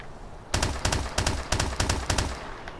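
MP443 Grach pistol in Call of Duty Advanced Warfare firing rapidly, about eight sharp, loud shots in a quick, fairly even rhythm, alone with no talking.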